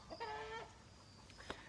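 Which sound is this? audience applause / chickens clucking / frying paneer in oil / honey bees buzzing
chickens clucking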